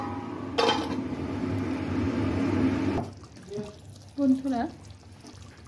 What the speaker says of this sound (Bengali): এখন উপর থেকে কাঁচা সরষের তেল দিয়ে দেব।